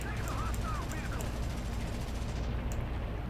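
A 13mm machine gun fires in an aircraft combat video game, a continuous dense rattle of rapid shots over engine roar, loud and unbroken.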